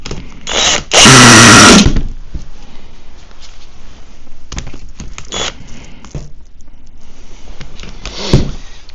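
A vintage HPI Savage 25 RC nitro engine, previously run by its prior owner, is cranked by a starter. A sharp high whine bursts for about a second, then fades into scattered brief buzzes and mechanical clicks.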